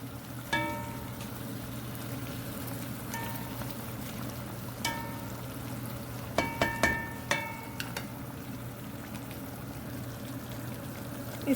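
Chicken karahi with tomatoes cooking in a wok over a high flame, a steady bubbling sizzle with a low burner roar beneath and several sharp metallic clinks of a utensil on the pan, close and without talk.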